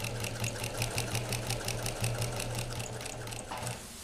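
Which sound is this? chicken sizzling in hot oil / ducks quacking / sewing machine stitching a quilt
sewing machine stitching a quilt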